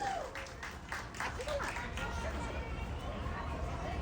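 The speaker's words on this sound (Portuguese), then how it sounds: "Mais aplausos para Luana Aquino." Crowd applause at a church quermesse festival (Mosteiro da Luz), broad clapping and hubbub across the whole stretch, with an announcer's voice and music partly under it.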